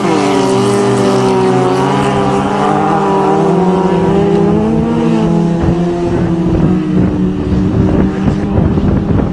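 Toyota and Nissan 4x4 trucks race off-road, their engines droning steadily with shifting pitch under loud wind noise throughout.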